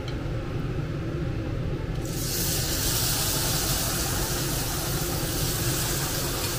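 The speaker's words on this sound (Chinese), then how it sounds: "倒入化好的面水，" Pork potstickers fry quietly in a pan until flour-water slurry is poured in. A loud, sudden burst of hissing sizzle follows and holds strong and steady to the end, close by and without speech.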